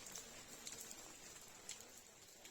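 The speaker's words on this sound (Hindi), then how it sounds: "बारिश लगातार हो रही है" Heavy monsoon rain falls steadily in the Niti Valley, a dense, even hiss with scattered sharper drops pattering on nearby surfaces, continuous and close with no voices.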